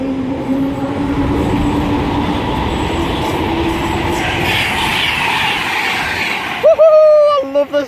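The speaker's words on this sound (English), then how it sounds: "we have a Virgin Trains Pendolino ready to pass by" A Virgin Trains Pendolino passes through a station on the West Coast Main Line, a loud, sustained rushing roar with humming tones, ending abruptly as a voice cheers over the fading rumble.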